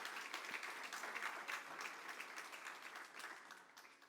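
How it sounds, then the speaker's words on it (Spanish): Church congregation applauding, a steady, fairly distant wash of many hands clapping that continues for about four seconds and thins slightly toward the end. "Denle un aplauso fuerte al Señor."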